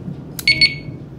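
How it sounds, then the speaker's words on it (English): Two short, soft electronic beeps from a Veison DX19 V2 motorcycle disc lock alarm as it is switched off, close and clear over a quiet background. "then it will give you two soft beeps."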